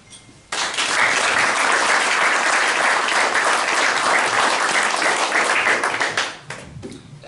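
An audience at an award ceremony breaks into loud, sustained applause that starts abruptly and carries steadily for about six seconds before fading into scattered claps.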